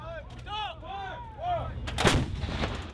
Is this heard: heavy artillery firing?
yes